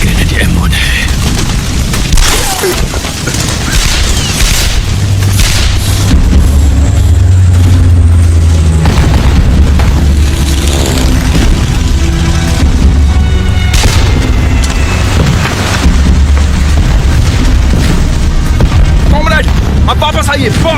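Grenade blast in a Hindi-dubbed Hollywood war film: a loud, sustained booming roar with rumbling low end runs through the whole scene, with battle noise and dialogue over it.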